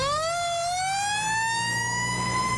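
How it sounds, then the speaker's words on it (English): A loud fire truck siren wails steadily in Grand Rapids, its tone slowly rising, with a low engine rumble underneath. "these sirens are pretty loud."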